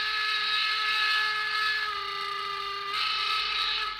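Two whistles of a Fleischmann BR 044 steam locomotive model, with DCC sound, blow together in a sustained, bright, shrill chord that runs nearly continuously and swells again after a brief dip, loud and close.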